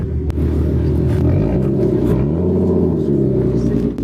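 A car at an auction, believed to be an Infiniti Q50 with a 3.7 liter V6, is given light throttle: a loud, close, steady engine drone that rises and falls slightly across the stretch, with faint voices underneath.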